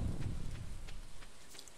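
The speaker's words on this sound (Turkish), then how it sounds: "yağmur yağıyor." Steady rain hisses over a low rumble of thunder in the Stardew Valley farming game, a continuous soft wash of noise with a heavier rumbling swell at the start.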